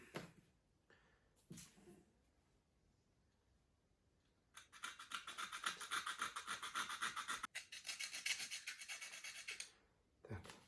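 A metal stapler part is filed by hand during repair, with a long run of rapid, rhythmic rasping strokes close up, set between a few short scrapes and brief pauses.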